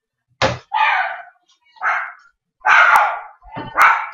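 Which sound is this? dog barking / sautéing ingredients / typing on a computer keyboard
dog barking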